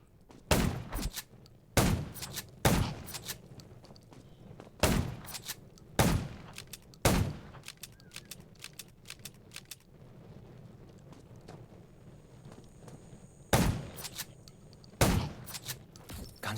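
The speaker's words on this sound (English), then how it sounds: "Gunshots will attract more." Sharp gunshots in the video game Undawn ring out in scattered single blasts and quick pairs over a low steady rumble, loud and close, with a long lull in the middle.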